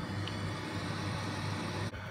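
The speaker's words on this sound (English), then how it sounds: "That's the sound of the drying fan." Steady, faint broadband whir from the small drying fan in a Braun Series 9 shaver cleaning station, running continuously at low level with a brief dip near the end.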